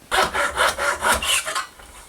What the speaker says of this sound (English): And I'm cutting this 3/4 of an inch long from the rounded tip.